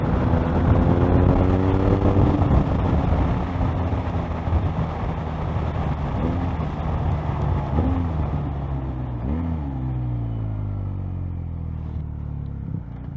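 A BMW R1250R motorcycle accelerating on a test ride, its engine droning loudly with rising and shifting tones through the gears, mixed with steady wind rush.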